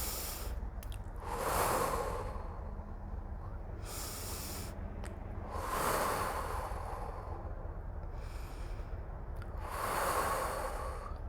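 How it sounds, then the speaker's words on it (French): Three slow, deep breaths taken close by, spaced about four seconds apart, each a soft airy swell with quiet pauses between and no talking. "Les pieds bien au sol, prenez 1, 2 ou 3 respirations afin de vous mettre en lien avec la terre."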